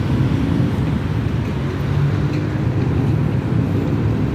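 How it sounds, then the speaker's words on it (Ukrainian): A continuous low hum of evening city street traffic in Kamianske, Ukraine, with vehicles rumbling past at a moderate distance and no voices. "щоб ви почули звуки нашого міста"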